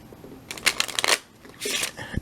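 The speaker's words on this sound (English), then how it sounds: "and give it a shuffle" A deck of playing cards is shuffled up close in two quick bursts of crisp, fluttering riffles separated by a short pause.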